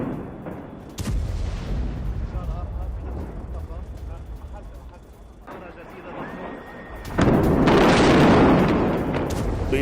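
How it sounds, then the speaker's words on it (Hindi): Israeli missile strikes on southern Beirut: a sharp blast followed by rumbling, then a louder, sustained roaring burst near the end, with a voice talking over much of it. "जोरदार हमला हुआ। इजरायली हमले से पूरा इलाका दहल गया।"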